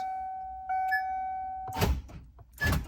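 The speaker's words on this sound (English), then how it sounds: "door locks, all that stuff still works" A vehicle's door locks actuate: a steady electronic chime tone fades out, then two solid mechanical thunks follow close together, near and clearly audible.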